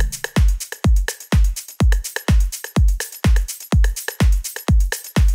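Electronic drum loop in Ableton for a house track, punchy kicks in a steady pulse layered with a bright, sizzling high-end sample, loud and up front with no voices.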